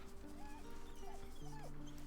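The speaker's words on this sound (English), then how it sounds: "Such a good dog." A dog whimpers in Baldur's Gate 3, faint thin whines rising and falling a few times over quiet game ambience and music.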